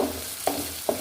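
Curry leaves sizzle in hot oil with a steady frying hiss, broken by two soft stirring scrapes.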